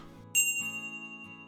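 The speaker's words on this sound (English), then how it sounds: "Go ahead, ring the bell because dinner is served." A single bright bell strikes once, ringing clearly and then fading in a lingering, shimmering decay.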